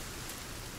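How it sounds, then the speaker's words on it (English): Steady rain hissing down in the survival video game Sons of the Forest, a broad continuous wash of even patter with no voices, short and unbroken throughout. "Oh, just in time, the rain."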